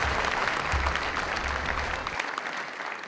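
Audience applause at a mushaira poetry recital in Hyderabad: a dense, even wash of many hands clapping, moderately loud and sustained for about three seconds, with a low hum under the first two seconds.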